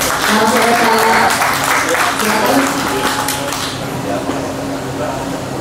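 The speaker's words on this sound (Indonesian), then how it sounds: "beri tepuk tangan yang paling meriah untuk Bapak Santoso selaku Ketua Umum APKI" Audience applause at a company event in Indonesia, welcoming the association's general chairman to the stage: dense, steady clapping throughout that thins and eases toward the end, with some voices underneath.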